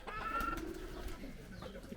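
A pigeon coos briefly at a small animal farm in Fujairah, UAE, among goats, rabbits, ducks and chickens, one soft low call amid faint outdoor ambience and a short bright chirp, with no talk.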